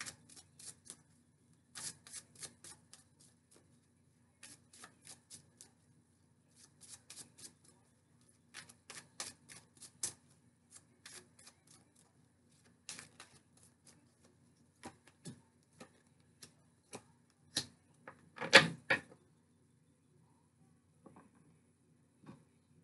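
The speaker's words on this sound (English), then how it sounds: "let's pull some Lenormand cards for the Divine Feminine" Lenormand cards shuffled and drawn, faint, dry riffling patters and flicks in short bursts scattered across a quiet room, with one louder slap near the end.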